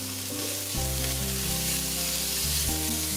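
Ginger and garlic sizzling in hot avocado oil in a pan, a steady close frying hiss that runs unbroken throughout with no talking.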